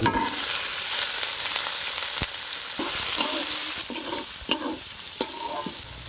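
Chopped onions and green chilies dropped into hot oil in a frying pan, a close hissing sizzle with a few sharp clinks and scrapes from the utensil, no voices.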